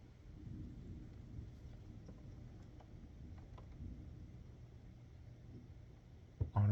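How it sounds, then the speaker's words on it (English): Thunderstorm in full force with steady rain and low rumbling thunder throughout, fairly loud and continuous, with a sharper loud burst right at the end. "The storm is fully here."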